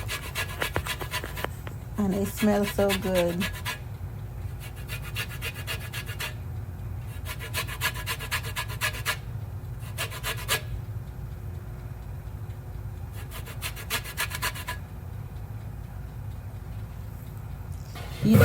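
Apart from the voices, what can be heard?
zesting a tangerine on a fine grater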